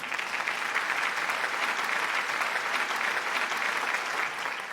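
Audience applause for the 2025 Projo Girls All-State First Team at a Rhode Island hockey hall of fame induction event, a steady dense clapping from a large crowd that holds evenly throughout and fades slightly at the end.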